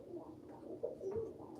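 A pet bird, a pigeon or dove, coos indoors in soft, low repeated calls, faint and close.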